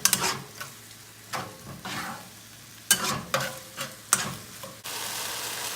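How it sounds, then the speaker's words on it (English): Meat and aromatics fry in a pan as sauce is stirred in, with a steady sizzle broken by scraping strokes and sharp clacks of a utensil against the pan. "I've folded in the sauce into the meat and the aromatics"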